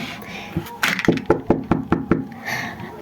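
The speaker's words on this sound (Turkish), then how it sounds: "Kapı çaldı." Knocking on a door: a run of about seven sharp, evenly spaced raps, loud and close, after a few scuffling sounds.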